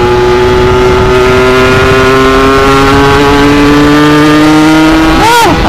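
A motorcycle fitted with a PWK 28 carburetor and a reamed 33 mm cylinder revs loud and close on a test ride, its engine note rising steadily through acceleration before a quick dip near the end.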